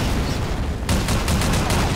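A mounted machine gun fires a rapid burst in Half-Life 2 MMod, loud and close, with fast repeated shots over a dense, booming rumble.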